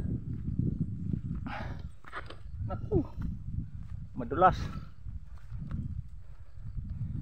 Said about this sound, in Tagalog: Ay, kabayo, may kabayo din.